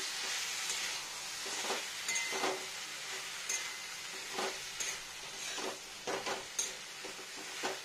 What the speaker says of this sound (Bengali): আর দিয়ে নেবো হলুদ, হলদি পাউডার, এবার এটা মেশাবো একটু ভালো করে।